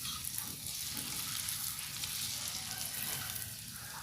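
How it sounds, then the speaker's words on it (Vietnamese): Battered lotus petals deep-fry in hot oil until golden, giving a steady, faint crackling sizzle with soft bubbling, continuous throughout and not under any talk. "Các bạn chiên cho nó cái màu vàng như thế này ha."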